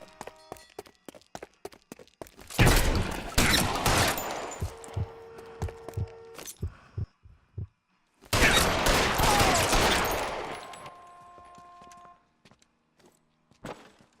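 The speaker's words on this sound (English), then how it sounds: "Oh, stop shooting at me, please." Gunfire in the video game L.A. Noire, heard as two dense bursts of rapid shots separated by a quieter gap with scattered single thumps and clicks.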